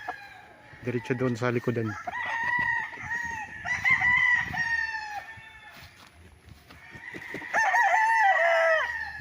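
Chickens and roosters in coops beside a fenced farm lot in Pagsanjan, Laguna crow repeatedly with long drawn-out calls and scattered clucks, fairly near, while a person speaks briefly between them.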